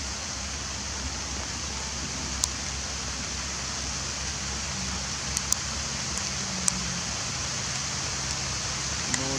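Rain falling outdoors where a bald eagle is perched, a steady, even hiss throughout with a few faint sharp ticks of drops.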